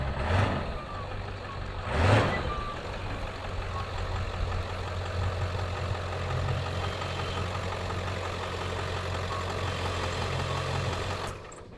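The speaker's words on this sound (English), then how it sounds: "Thankfully, I have a handy dandy monster truck." Monster truck idling with a low steady engine rumble and a couple of brief louder bursts near the start, with a faint reversing beep pattern underneath.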